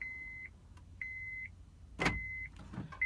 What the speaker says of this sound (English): I put the key in ignition and turn it, it's gonna lock by itself